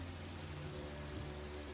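Steady rain falling at night on a roadside in the video game Beyond Two Souls, a continuous soft hiss with a low ambient hum underneath, even and unbroken throughout.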